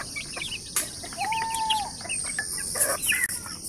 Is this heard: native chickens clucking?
yes